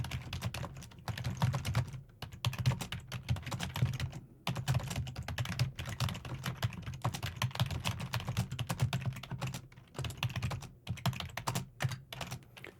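Steady, dense keyboard typing on a modern computer keyboard, close and moderately loud, with rapid continuous clacks and a few brief pauses, no talking.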